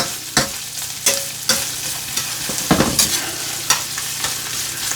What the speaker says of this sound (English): Now I'll give it a stir. You can see it browning a bit, just like cooking a burger.